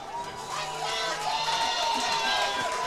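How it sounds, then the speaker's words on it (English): A high school football crowd in the stands, a steady roar of cheering and shouting that swells slightly and holds for a few seconds. "Tiger defense is trying to rile the crowd up, get some noise going"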